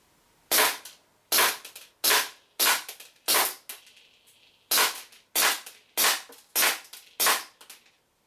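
A WE P08 Luger gas blowback airsoft pistol fires about eleven sharp, loud, evenly spaced shots in two bursts with a short pause between, no talking over them.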